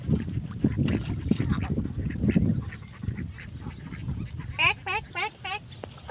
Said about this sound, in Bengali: চকে আসলে অনেক হাঁস দেখা যায়